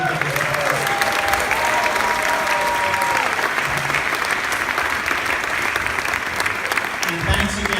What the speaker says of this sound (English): How about another round of applause for all of them?